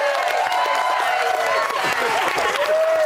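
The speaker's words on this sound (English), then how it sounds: "I'll give him a round of applause." A live studio audience at a Big Brother UK show claps and cheers in a loud, continuous wash of applause, with high excited shouts and whoops rising above the noise.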